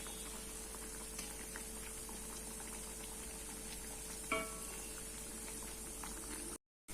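Mint masala vada frying in oil over a medium flame give a faint, steady bubbling sizzle with light pattering crackles and one brief louder clatter near the end.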